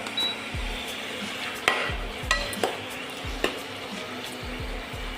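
Food fries in white oil in a pan while a spatula stirs it, giving soft continuous sizzling broken by several sharp scrapes and clinks against the pan.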